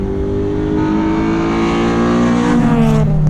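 An Infiniti with a variable valve lift engine pulls at full throttle in third gear, the exhaust note rising steadily in pitch as revs climb, loud and close from inside the car.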